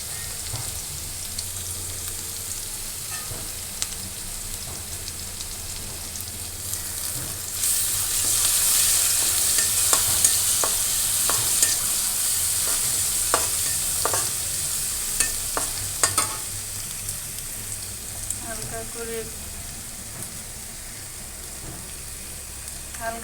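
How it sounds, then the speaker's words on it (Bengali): Garlic sizzles steadily in a hot pan while a utensil stirs it, scraping and clicking against the metal; the frying grows louder midway and carries on alone without talk, in a Bengali kitchen cooking taro leaves. "এখন দিয়ে দেব রসুন।"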